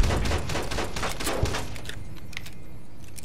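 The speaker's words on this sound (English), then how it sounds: "More importantly, Edie, why aren't you shooting them?" Rapid gunfire in the video game Fallout New Vegas, a dense burst of loud overlapping shots in the first two seconds, then fading to scattered, quieter pops.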